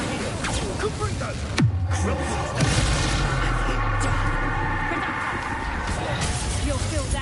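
A magical explosion spell goes off in Hogwarts Legacy, a sudden loud boom followed by a rumbling blast and a second impact amid ongoing combat noise, with voices talking over it.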